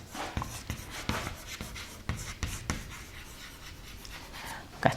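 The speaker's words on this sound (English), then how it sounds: "so let me write here, downstream" Writing on a board during a biotechnology class, with a run of scratchy strokes and light taps in an irregular rhythm, fairly close but quiet, and no speech.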